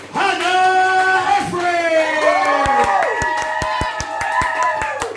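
A stand-up comedy audience cheers and whoops as a compere's voice rises over them, then breaks into sharp, evenly spaced rhythmic claps and stamps that carry on under the shouting.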